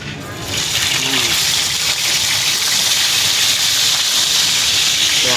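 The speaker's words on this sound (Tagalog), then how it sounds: "Ipiprito na natin." Cleaned milkfish (bangus) intestines hit hot oil and fry with a loud, sudden hissing sizzle that swells and holds steady, close up.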